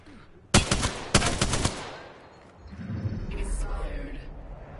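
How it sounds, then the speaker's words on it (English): Two sharp bursts of rapid automatic fire from the Spitfire machine gun in a video game crack out close and loud in quick succession, followed by a lower rumbling tail of game ambience. "Because the Spitfire is the easiest gun to use."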